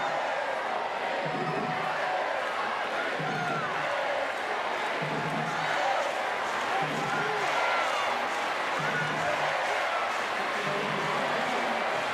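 A large arena crowd at a para judo match keeps up a steady roar, with rhythmic chanting or clapping rising and falling throughout and a commentator talking over it.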